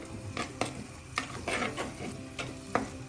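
A spice mixture for a Kerala Ayalapara fish mulaku curry is sautéed in coconut oil in a pan, soft sizzling under repeated spatula scrapes and taps in an uneven rhythm, fairly quiet, with no talking.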